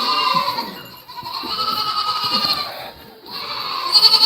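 Goats crying in a barn with many animals packed inside, a steady mass of overlapping bleats and calls filling the space, fairly loud and continuous with no talking.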